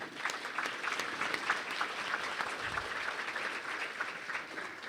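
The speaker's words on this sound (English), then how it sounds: "Please join me in a round of applause for them." Audience at a State of the City event applauds contest participants, a steady, dense wash of clapping from a room full of people, sustained evenly for about five seconds with no speech over it.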